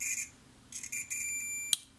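A continuity tester beeps through an intact fuse from a 4-track recorder, a few short high electronic tones with a brief click near the end, quiet and close.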